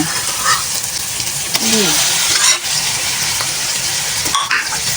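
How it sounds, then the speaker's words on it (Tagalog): Small squid hit a hot pan for squid adobo with eggplant, a loud continuous sizzle with stirring scrapes and clatter close by, and a voice speaks briefly. "pwede na natin ilagay ang pusit"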